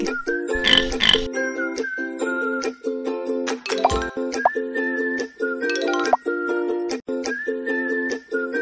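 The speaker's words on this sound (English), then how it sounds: "Pig." A pig oinks in a children's animal puzzle video game, a short burst of oinks near the start, then cheerful looping game music and occasional sparkly sound effects.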